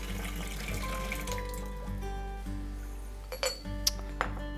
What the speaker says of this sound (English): So just give that a little swirl around and pour it away.